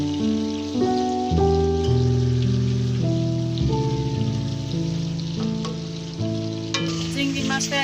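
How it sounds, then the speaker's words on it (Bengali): Shrimp frying in oil in a wok for a prawn curry, a steady crackling sizzle with scattered pops running under prominent tonal background sounds that swell near the end, no talking. "চিংড়ি মাছটা এপিঠ ওপিঠ দুপিঠ ভালো করে ভাজা হয়ে গেছে"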